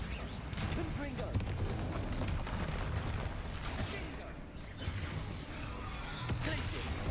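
Bombarda and Confringo spell blasts in the Hogwarts Legacy video game, a continuous run of booming explosions and crashing impacts, with a spoken voice calling out spells over the din.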